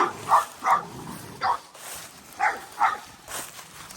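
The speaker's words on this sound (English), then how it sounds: "We have 2 dogs in the backyard of this home" Two dogs bark in a fenced residential backyard, several sharp, mid-distance barks in irregular bursts over faint outdoor ambience.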